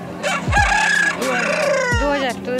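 A rooster crows loudly nearby at a poultry market, its call overlapping with clucking and other fowl in a busy farmyard.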